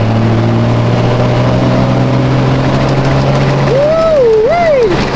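A turbocharged car makes a fifth-gear pull on a dyno, the engine droning loud and steady at high load, with a rising and wavering whine near the end.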